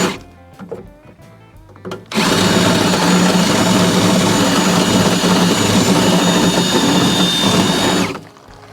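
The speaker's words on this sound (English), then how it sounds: "let's go ahead and remove that last rivet and nothing will be holding it any longer" A power drill bores out the last rivet holding a power window motor and regulator assembly on a Ford Ranger / Mazda B4000. Some quieter handling noise comes first, then a loud, steady high-pitched whine runs for about six seconds before stopping abruptly.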